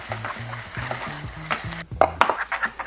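Oil being stirred into Korean black bean noodles, a repeated soft wet slapping and squelching as the noodles are tossed, followed by a few light clinks of utensils against the dish, close and fairly quiet.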